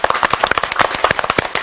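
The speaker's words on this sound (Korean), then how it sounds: "박수 한번 합시다." A small audience at a Bible lecture claps in quick, sharp, uneven bursts, close and fairly loud, for a brief moment.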